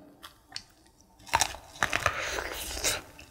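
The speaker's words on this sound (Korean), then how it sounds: "당분과 함께 수분 함량도 굉장히 많아서 이렇게 먹으면 아삭한 느낌이 있거든요" Biting and chewing crisp, juicy sweet chodang corn, several sharp crunchy bites followed by moist crunching, close and clear with no talking.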